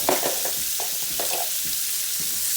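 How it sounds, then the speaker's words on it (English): Fiddleheads frying in a pan, a steady close sizzle broken by a few soft scraping stirs at irregular intervals, with no voices. "Give us a little stir here."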